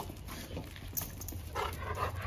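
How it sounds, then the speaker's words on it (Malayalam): A puppy pants softly nearby in hot weather, quick faint breaths with a few small snuffles and a brief whimper, quiet and without talk. "പട്ടിക്കുട്ടി എവിടെ?"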